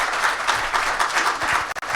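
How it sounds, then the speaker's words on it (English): Audience applause at a conference talk on free-to-play game monetization, dense and steady clapping from a crowd that fills the whole moment before breaking off abruptly at the end. "We can have applause for Emily now."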